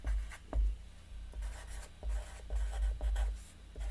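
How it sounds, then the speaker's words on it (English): Pen scratching across paper as someone writes by hand, close and quiet, with uneven strokes and brief pauses between words. "I know I need to write that out."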